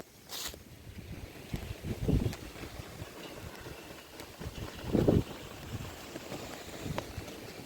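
A flag flaps and snaps in gusty wind at the top of a hill fort, with irregular bursts of fluttering over a steady rush of open-air wind noise.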